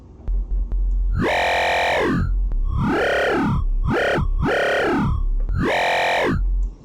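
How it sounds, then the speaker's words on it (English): A heavy FM growl bass synth patch with a sine carrier and modulator growls in repeated wobbling phrases, pitch sweeping up and down with a harsh buzzing edge, loud and up front, five bursts in a row. "It's an FM growl bass patch that I like to do in synthesizers like"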